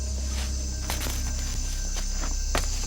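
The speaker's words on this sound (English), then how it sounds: "You're just exposed to a wonderful orchestra of different sounds, of many insects and frogs" Night chorus of insects and frogs in Panama rainforest: a dense, steady wall of buzzing and trilling calls with repeated clicks and chirps throughout, no talk.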